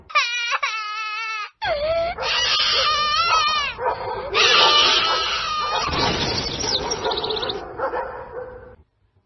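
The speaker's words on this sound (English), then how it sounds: "even the dogs would become scared and start to whine" Several dogs whine and whimper in high, wavering cries, with occasional yips, loud and close, continuing for several seconds before fading out.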